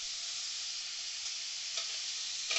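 Finely chopped onion with a pinch of salt fries in a pan with a steady, even sizzle, close and moderately loud, with a few soft scrapes of stirring near the end.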